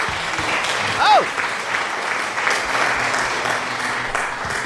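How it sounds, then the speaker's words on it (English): Applause sound effect from a livestream alert during a Resident Evil Requiem horror game stream, a short burst of clapping mixed under ongoing game audio and background noise. "Thank you for the applause, Jade."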